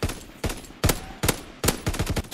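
A Chatellerault light machine gun firing in the video game Call of Duty WW2, loud close bursts of rapid shots separated by short pauses.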